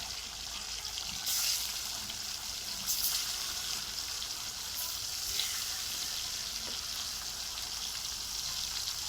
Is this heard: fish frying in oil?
yes